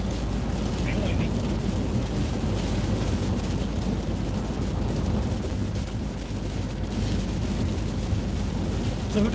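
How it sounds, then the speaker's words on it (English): Rain and gusting wind outdoors while travelling toward downtown, a dense, steady roar of noise filling the whole stretch without a break. "Ooh, raining out."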